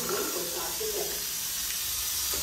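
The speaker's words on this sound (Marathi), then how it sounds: "जिऱ्याची फोडणी" Cumin seeds tempering in hot oil in a large pot give off a steady, close sizzling hiss that runs through the whole moment without a break.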